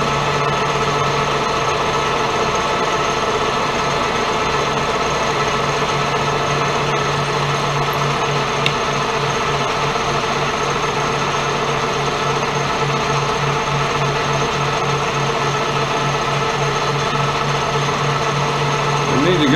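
A sharp drill bit bores into stainless steel in a machine shop, giving a loud, steady motor whine and hum that holds unchanged throughout with no pauses.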